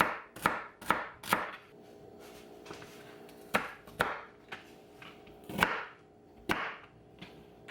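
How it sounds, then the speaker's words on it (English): A knife chops celery stalks steadily on a cutting board in quick irregular bursts of crisp thuds, close and fairly quiet, with no talking. "Right now I'm just chopping up 2 stalks of celery"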